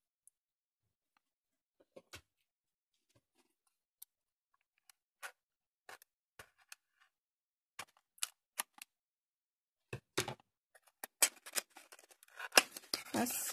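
A sealed cosmetics box being opened: faint, sparse clicks and crinkles at first, building into denser tearing and crackling of packaging toward the end, close and quiet.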